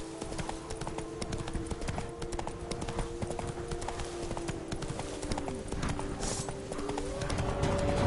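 Hooves of the horse Roach in The Witcher 3, a steady, close clip-clop rhythm that keeps going throughout over a faint background hum.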